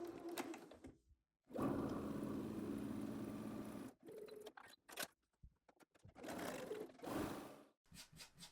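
Close-up sewing machine stitching channels for elastic in a frock, whirring in a long steady run and then shorter stop-start bursts with brief clicks between them.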